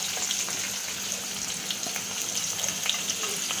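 Curry leaves hit hot oil already seasoned with asafoetida in a pan, for a home-cooked Gujarati meal, producing a close, steady crackling sizzle that continues without a break.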